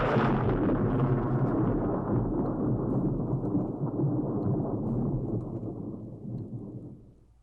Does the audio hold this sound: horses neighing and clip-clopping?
no